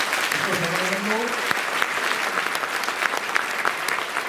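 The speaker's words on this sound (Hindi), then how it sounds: "कृपया तालियां बजाकर इसको समर्थन दो" Audience at a Congress political speech in Datia, India, breaking into sustained, dense applause from a crowd, steady and loud throughout with no voice over it.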